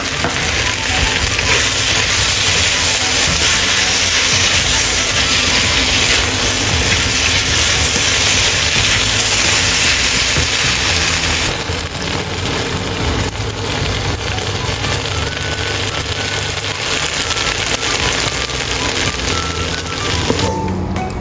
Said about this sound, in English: Add a teaspoon of sugar and stir fry for another minute.